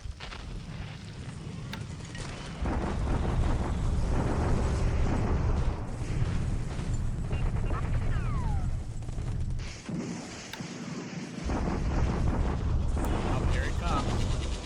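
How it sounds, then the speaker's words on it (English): Artillery bombardment in a WWII Pacific strategy video game, a dense sustained rumble of explosions and crashing impacts, loud and continuous with a brief lull near the end. "That's the bombardment at Bandoing."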